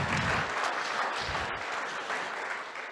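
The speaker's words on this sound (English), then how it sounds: "round of applause, I think, for Marek and Greg." A conference audience claps steadily for two speakers after a talk on fibre-in-pipe technology, dense continuous applause filling the room at even volume.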